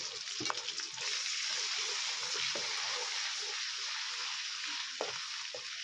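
Ginger and garlic hit hot oil in a pan, giving a steady, fairly quiet hiss of sizzling and frying with a few faint clinks of stirring.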